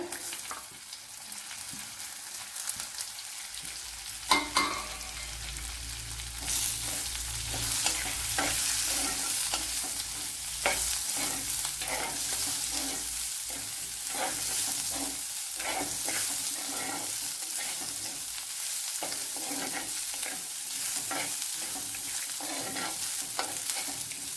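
Finely chopped large onion frying in a pan for cauliflower masala curry, sizzling steadily with repeated scraping stirs throughout, close and fairly loud, no talking.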